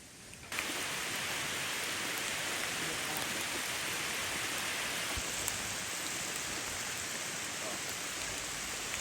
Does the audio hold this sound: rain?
yes